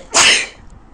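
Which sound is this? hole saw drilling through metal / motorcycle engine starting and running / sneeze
sneeze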